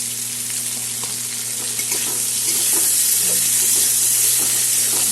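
Potatoes sizzle steadily in hot oil in a pan as a chopped medium tomato and three green chillies go in for aloo chorchori, with the frying growing slightly louder and stirring scraping underneath.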